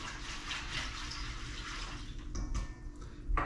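A liquid mixture for smoked bluefish is whisked in a bowl. It makes a steady, close sloshing and swirling wash, with a couple of light clinks near the end and no voices.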